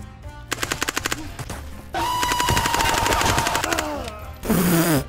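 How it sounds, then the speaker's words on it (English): Rapid machine gun bursts from the first-person shooter Ghosts of Tabor crackle loudly, several short volleys then a sustained string of fire, with brief sharp gunshots near the end. "More shots!"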